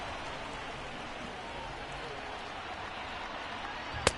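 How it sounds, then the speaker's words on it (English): Rain falls steadily in MLB The Show, a baseball game between the Kansas City Royals and Chicago White Sox on the south side, as a soft, even hiss with one sharp tick near the end. "The rain comes down harder here on the south side"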